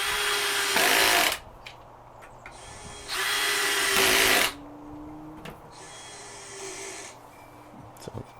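A power drill drives number 8 stainless steel countersunk screws into the side panel of a marine fillet table, in two loud whirring bursts and then a quieter third run, with short pauses between them.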